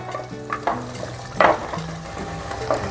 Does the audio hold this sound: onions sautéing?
yes